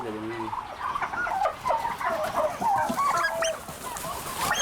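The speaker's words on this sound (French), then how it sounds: "Et les dindes là, c'est sorti un peu?" Turkeys gobble at a poultry farm in Bingerville, several birds calling in overlapping bursts nearby over a steady background hum.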